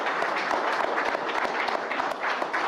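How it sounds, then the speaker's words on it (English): Sustained applause from a large audience at the NDTV Indian of the Year 2025 awards ceremony, a dense, even roar of many hands clapping that continues throughout without pause. "Huge round of applause for Professor Madhuri Lata."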